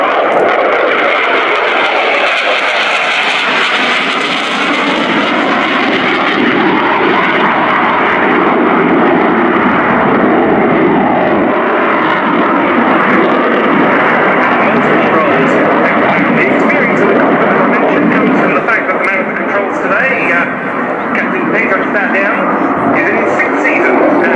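A Swedish Air Force Saab JAS-39 Gripen jet accelerates and takes off during an air show demonstration at RIAT 2018, a loud, sustained, roaring engine blast that swells and shifts throughout, with an announcer talking over it.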